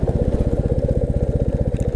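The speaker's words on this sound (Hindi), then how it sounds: "इसलिए मैं गियर पे जो है बाइक उतार रहा हूँ, ब्रेक नहीं लगा रहा हूँ" A motorcycle engine burbles loud and close in a fast, even pulsing rhythm while the bike descends a very steep slope of Zojila Pass in gear without braking, the engine holding it back.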